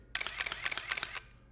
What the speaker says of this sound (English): here is the sound of a multi-frame picture.